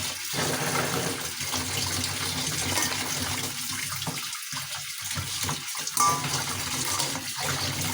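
Tap water runs steadily while cut crab pieces and legs are rinsed, a continuous close splashing gush with small clatters mixed in and no talk.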